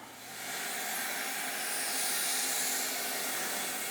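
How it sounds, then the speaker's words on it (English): A steady, loud hiss of acetone being sprayed to wash out the carburetor of a Honda TRX350 Rancher ATV, swelling up within the first half second and holding constant, with no talking. "we're going to wash it out one more time just with some acetone"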